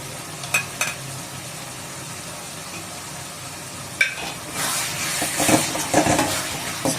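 Chili powder frying and being stirred into a tomato egg curry in a pan, with a few scraping stirs early on, then a louder burst of sizzling and stirring near the end, no talking.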